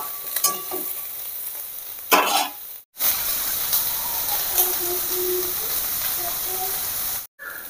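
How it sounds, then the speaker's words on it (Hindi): Soybeans fry in hot oil in a pan, a steady broad sizzle with brief stirring scrapes and a couple of short gaps, close and fairly loud throughout. "सोयाबीन एबे मोर भजा चलछि"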